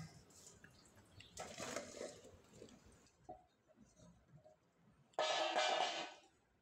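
Water drains off salted mango pieces for pickle, a soft trickling and dripping that swells into a brief louder pour near the end, close by and with no talk.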